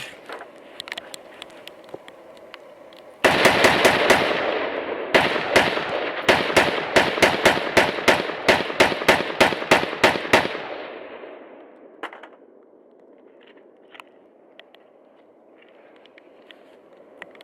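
A Noveske rifle fires rapid bursts during a torture test, loud close cracks crowding into a dense run of about seven seconds, then stopping to quieter background.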